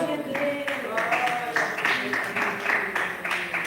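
A church congregation claps for a preacher coming up to speak, a moderate, uneven round of applause that runs beneath a sustained tonal voice or instrument and some chatter, neither fading nor building much.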